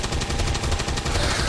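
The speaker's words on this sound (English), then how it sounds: "He does have a pretty heavy machine gun." Heavy machine gun fire in the video game XCOM 2, a dense, loud, rapid burst of rattling shots continuing without pause.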